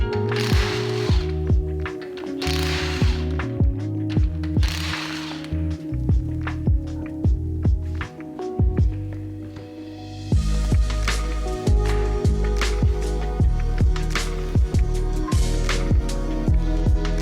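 Wheel coming off a Mitsubishi Evo 10, with rapid ratcheting clicks and mechanical whirring from a tool loosening the lugs, repeated in bursts, close and fairly loud.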